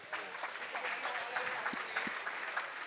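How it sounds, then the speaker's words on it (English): Steady applause from an audience at the Gran Turismo World Tour Nations Cup Final at the Nürburgring fills the whole stretch, dense and continuous clapping at an even level without pause. "Big applause for this guy."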